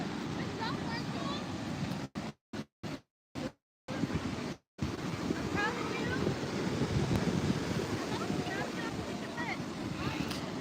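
Waves wash onto a beach under steady wind buffeting the microphone, a continuous broadband roar with a few brief dropouts partway through.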